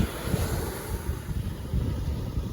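Strong wind gusting across a beach during outdoor cooking, buffeting the microphone with low rumbling bursts over a steady hiss, loud and continuous throughout.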